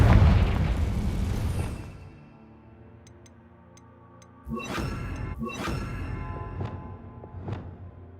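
A Confringo fire spell bursts in Hogwarts Legacy with a loud, heavy boom that rolls off over about two seconds. Quieter magical hits and a sparkling chime follow it after a short gap.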